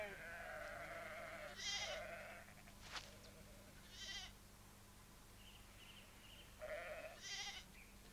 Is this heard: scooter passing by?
no